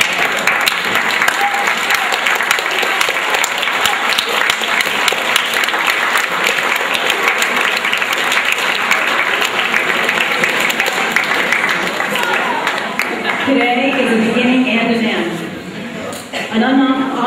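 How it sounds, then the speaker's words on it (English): Graduates at an eighth grade moving-up ceremony give their parents and teachers a sustained round of applause from a large crowd, steady and loud throughout, thinning briefly near the end as a voice begins speaking over it. "Graduates, it's your turn to stand and give them a round of applause."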